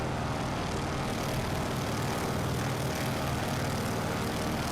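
Big radial engine of a Noorduyn Norseman bush plane heard from outside in flight simulation, a steady loud broadband drone with a low throbbing rumble that holds constant throughout, with no talk over it.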